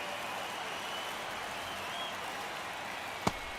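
Simulated baseball crowd in MLB The Show 24 during a Boston Red Sox vs Minnesota Twins game in a tight ninth inning: a steady, faint roar of cheering fans with one sharp knock near the end.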